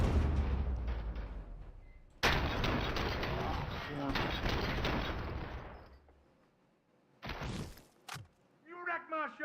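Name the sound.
gunfire from a gun in the video game RoboCop: Rogue City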